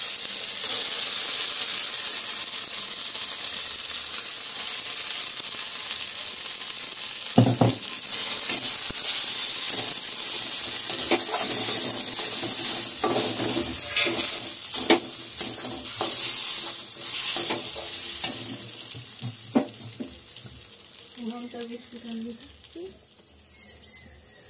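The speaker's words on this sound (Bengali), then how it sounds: "কড়াইশুঁটিটা দিয়ে দিই," Green peas stir-fried with turmeric in a wok, a steady close sizzle and hiss with scraping stirs and clinks running throughout, a sharp knock near the middle, and a voice speaking in the background.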